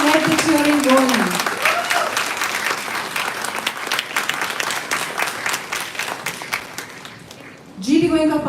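Sustained audience applause with cheering at a school event fills the hall, dense rapid clapping under a tagged voice, fading briefly near the end before a loud voice returns.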